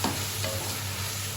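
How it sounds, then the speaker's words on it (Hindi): Red chilli powder, salt and turmeric masala fries in oil for bhindi gosht, making a dense, close, continuous sizzle with a soft scrape of stirring, heard alone and briefly. "ये मसाला हमारा अच्छी तरह से फ्राई हो गया"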